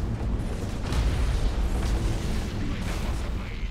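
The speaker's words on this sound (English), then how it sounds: "Explosions are huge." Heavy, rumbling torpedo explosions from the space-fleet strategy game Battlefleet Gothic: Armada 2, a continuous deep booming roar with layered blasts rolling over several seconds, no voices.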